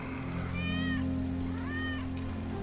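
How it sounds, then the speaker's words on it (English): A cat in the video game Final Fantasy VII Remake meows twice, each meow a rising then falling cry about a second apart, heard over a steady low in-game hum. "That's Wedge's cat."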